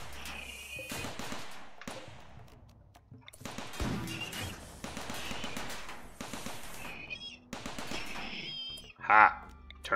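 Defensive turrets firing in RimWorld, rapid bursts of gunfire interspersed with crashes and impacts, loud and repeated over several seconds.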